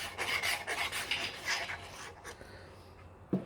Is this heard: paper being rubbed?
yes